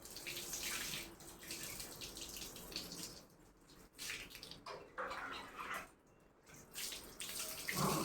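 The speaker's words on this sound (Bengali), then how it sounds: "বেশি জল দিই না, অল্প একটু জল দিয়ে দিই, পেটের তলাটা ভিজিয়ে দিই" Water is poured in small amounts over a dog during a bath, producing soft, intermittent splashing and trickling close by, fairly quiet, with brief pauses between pours.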